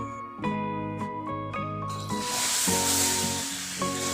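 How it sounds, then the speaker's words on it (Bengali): Full fat milk is poured into semolina frying in ghee, setting off a broad, loud hiss and sizzle that swells over a musical backing. "এবারে দিলাম দু কাপ ফুল ফ্যাট মিল্ক"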